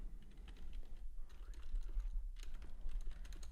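Quiet typing on a computer keyboard during a live day-trading session, a steady patter of key clicks with a couple of brief pauses.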